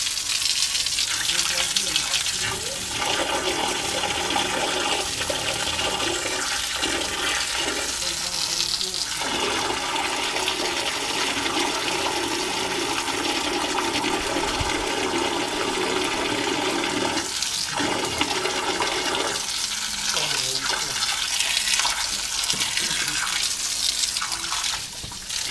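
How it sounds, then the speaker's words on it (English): A toilet flushes repeatedly while a blocked drain is being cleared, a loud continuous rush and gurgle of water filling the whole span, with brief voices faintly underneath. "Flush your toilet a couple of times, Steve."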